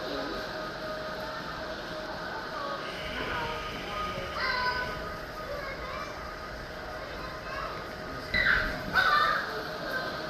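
Blue-throated macaws calling in a zoo bird sanctuary, harsh squawking cries that rise near the end, over a busy background of crowd and voices.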